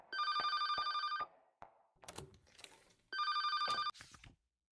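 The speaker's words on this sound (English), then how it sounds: "the moment I heard the ringtone, I remembered the name of the device that made that sound" Phone ringtone in a yandere video game: two loud bursts of bright electronic trilling ring, separated by a short gap with scattered rustling and clicks, ending abruptly in silence.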